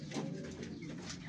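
Pigeons coo softly in a short, muffled burst of low throaty calls, faint and close by, with no speech over them.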